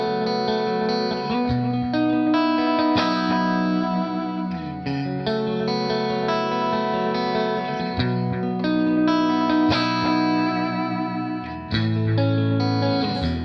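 A late-1956 Fender Stratocaster electric guitar plays ringing chords and melodic runs with a shimmering chorus-like effect, loud and close, sustained throughout with no talking.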